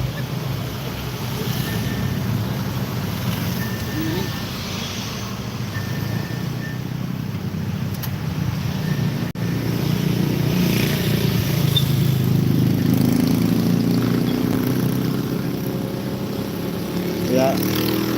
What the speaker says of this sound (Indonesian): kendaraan mobil sudah mulai lewat satu-satu